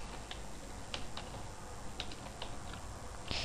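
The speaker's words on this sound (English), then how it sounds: "Type your preset name." Computer keyboard typed on at a desk, a quick run of close, light key clicks at uneven spacing, heard alone without talk.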